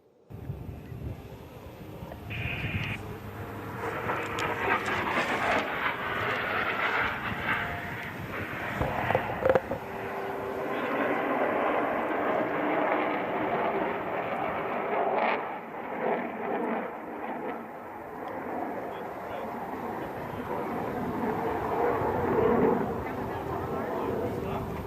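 Aircraft flying an inverted low pass at the Hill Air Show, a long swelling jet roar with gusty wind buffeting the microphone, rising and sustained over many seconds, with a commentator's voice over the public address and crowd noise underneath.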